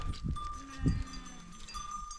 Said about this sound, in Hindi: अब बकरियों को निकालने का टाइम भी हो चुका है और बकरियों को अब लेकर जाएंगे जंगल की ओर